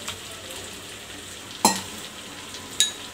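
A spoon stirs water and millet flour into simmering chicken curry: a soft, steady bubbling sizzle with two sharp metallic clinks of the spoon against the pot.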